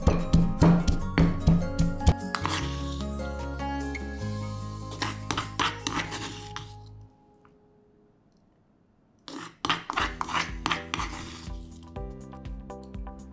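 Spices and ginger are pounded with a mortar and pestle in a series of quick, sharp knocks, then a pause, then another burst of strikes. Background music plays with tonal notes throughout.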